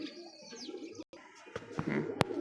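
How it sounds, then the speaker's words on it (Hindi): A pigeon coos softly nearby, low throaty calls mixed with a few sharp clicks and rustles. "तो ये कबूतर है"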